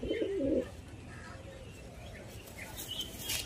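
A Madrasi pigeon gives a short, close, throaty coo at the start, followed by a quieter background hiss with faint distant chirps.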